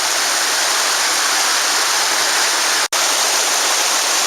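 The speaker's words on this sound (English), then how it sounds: "So this is the Oconaluftee River coming down off the high mountains" The Oconaluftee River rushes down from the high mountains of the Great Smoky Mountains near the Kephart Prong Trail, a loud, steady broadband roar of flowing water that holds constant throughout, broken only by one brief dropout.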